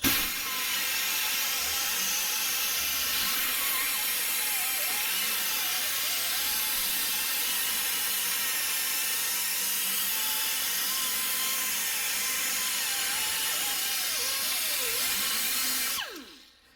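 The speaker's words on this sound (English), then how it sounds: "This is an air power tool." A pneumatic die grinder cleaning a wheel hub whines steadily at high speed for a long stretch, close and loud, its pitch dipping slightly under load, then cutting off abruptly.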